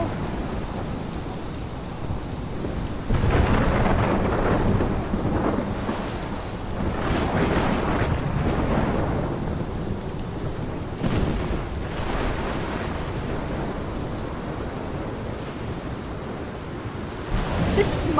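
Thunder rumbles repeatedly over steady heavy rain in a thunderstorm scene from the video game Life Is Strange, with several loud rolling crashes rising out of continuous wash noise.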